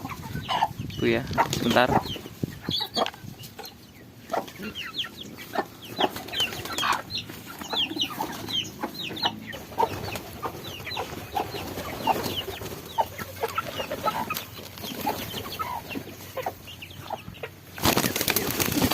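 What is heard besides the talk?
chickens clucking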